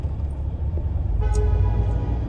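A car horn blares once over steady road and engine noise, a short sharp honk close by amid traffic.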